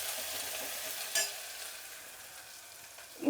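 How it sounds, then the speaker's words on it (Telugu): A tempering of mustard seed, cumin, onion and curry leaves sizzles softly in a pan for jeera rice tadka, with a steady faint frying hiss, a brief stir clink near the middle and a louder scrape at the end. "ఇప్పుడు దీన్ని కలుపుకుందాము."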